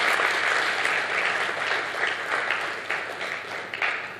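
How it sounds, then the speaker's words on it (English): Sustained audience applause fills a conference hall, dense steady clapping from a crowd that holds at full volume throughout with no speech over it. "Can we give him a warm applause again?"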